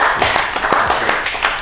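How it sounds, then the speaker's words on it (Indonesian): A few people clapping hands in a casual indoor talk-show chat, a short burst of sharp, uneven claps close by. "ya, tepuk tangan"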